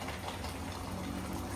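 A covered pot of country chicken curry with ground spice paste bubbles on the stove, giving a faint, steady simmering burble that holds constant with no voices.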